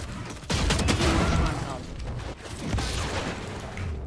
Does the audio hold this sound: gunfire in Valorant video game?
yes